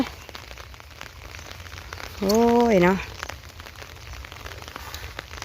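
Rain falls steadily in a constant soft patter from start to end, and a voice speaks briefly over it near the middle.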